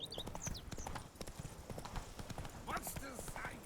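Roach the horse's hooves clip-clop at a steady walking pace in The Witcher 3, with a voice speaking over the hoofbeats and brief chirping ambience in the background.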